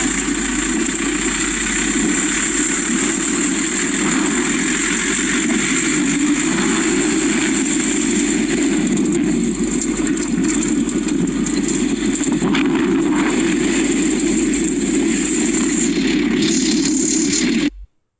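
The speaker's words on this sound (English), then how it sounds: "Here a quick taxi ride." A crowded share taxi jeep drives along a village road, its engine running steadily with a loud, continuous mid-range drone and body rattle for the whole ride before cutting off abruptly at the end.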